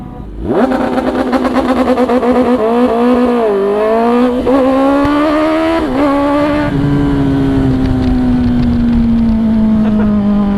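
A Kawasaki ZX10R motorcycle launches under launch control, its engine roaring loud and close, pitch climbing and dipping briefly through rapid gear changes before settling into a steady, high, sustained drone.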